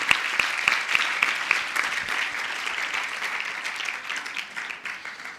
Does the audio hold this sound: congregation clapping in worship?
yes